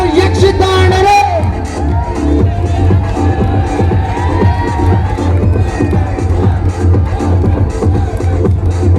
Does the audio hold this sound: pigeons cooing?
no